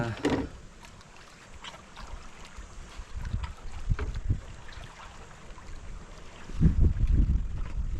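Strong wind buffets a small fishing boat on open water near Kanipo Island, a steady rushing roar with gusts swelling louder toward the end, and occasional knocks and splashes beneath it.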